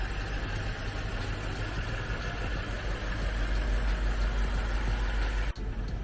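A 2021 BMW X6 M idles with its engine bay open, giving a steady, even low rumble and hum that holds without revving for the whole stretch, close by and unaccompanied by talk.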